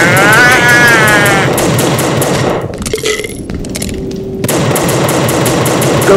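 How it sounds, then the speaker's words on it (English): Sustained loud automatic gunfire in the video game The Suffering, interrupted by a flashbang grenade whose burst leaves a muffled, ringing lull before the rapid shooting resumes, with no talk. "Flashbang!"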